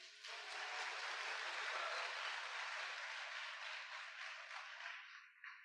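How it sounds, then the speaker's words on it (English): An audience applauds at the close of a conference session on building a more equitable world, a dense steady wash of clapping that holds for several seconds before thinning and stopping at the end. "Let's give a big applause for the conclusion of this session."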